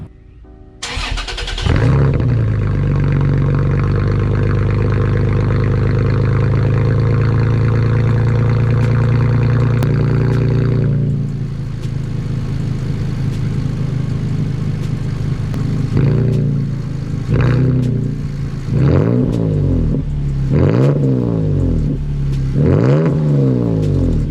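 A Toyota Tacoma pickup with an aftermarket cat-back exhaust starts up and holds a deep, rumbling idle, then gets revved several times in quick, throaty bursts.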